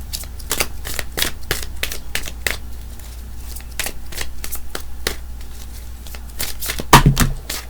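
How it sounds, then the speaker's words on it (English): A deck of tarot cards is shuffled up close in quick, crisp riffles and slaps that repeat rapidly for several seconds, ending in a heavier thump and rustle as the cards are gathered; no one speaks. "but I want to shuffle"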